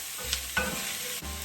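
Liquid hitting a hot skillet of leftover ham and pasta, a steady close sizzle with a few soft stirring scrapes.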